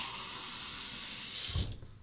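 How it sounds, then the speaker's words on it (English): Hot water runs from a tap into a marble cup, a steady gushing stream that swells louder and fuller near the end as the cup fills, with no voices. "I'm going to fill up my marble cup with some hot water"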